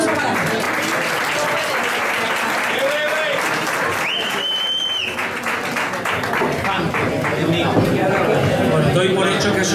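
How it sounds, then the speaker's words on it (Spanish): A seated crowd at a Spanish event applauds a welcome speaker, dense steady clapping that holds for nearly ten seconds and grows slightly at the end, with a few voices and murmurs underneath. "Un aplauso para él."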